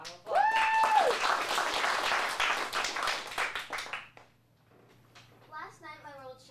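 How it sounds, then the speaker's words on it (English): Audience clapping for a performer at a teen showcase, loud at first and then thinning out to scattered claps before quiet, with a voice speaking near the start and again at the end. "Round of applause."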